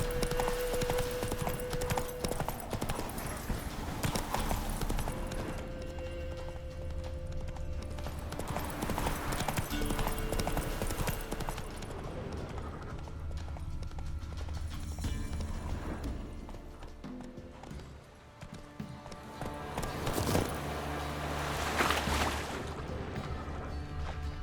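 Roach the horse trots in The Witcher 3, a steady, close clip-clop of hooves that runs throughout alongside other game sounds.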